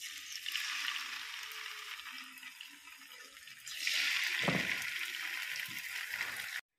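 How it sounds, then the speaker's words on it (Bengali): Fish sizzles and spits in a frying pan, a steady hissing fry that swells louder partway through, moderately close with no talk. "তো চলুন মাছটা ভেজে নেই"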